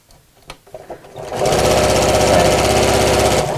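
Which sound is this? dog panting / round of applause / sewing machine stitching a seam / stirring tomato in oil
sewing machine stitching a seam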